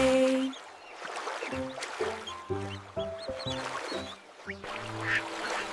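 Cartoonish duck quacks from the "Five Little Ducks" nursery rhyme pop out in short bursts over a bouncy musical backing, repeating in a playful rhythm.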